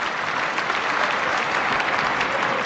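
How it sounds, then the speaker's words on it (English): Home crowd at Trent Bridge cricket ground during an England v New Zealand Test, a loud sustained wash of clapping filling the whole moment without pause. "And wins the applause of his home fans here at Trent Bridge."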